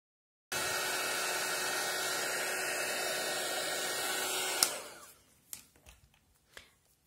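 A hair dryer blows steadily and loudly for about four seconds while drying mixed media structure paste on a notebook cover, then cuts off, followed by a few light handling knocks.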